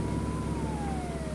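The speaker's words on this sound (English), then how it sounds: "It's a Parkway police car coming up behind us." Siren of a Parkway police car coming up from behind, a steady wailing tone gliding slowly downward over a continuous rumbling car engine, loud and close throughout.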